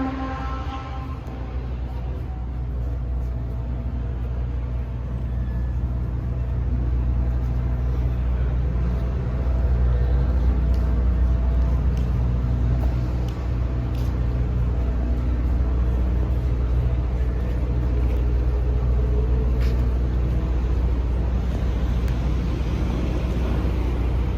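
Naturally aspirated race cars at a car show or track paddock, a steady broad engine roar and rumble continuing for the whole stretch, moderately distant and unbroken, with faint crowd and voices mixed underneath.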